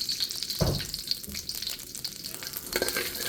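Beef frying in avocado oil in a wok, a steady close sizzle with a heavier burst of spatter and stirring near the start and again toward the end, no voices.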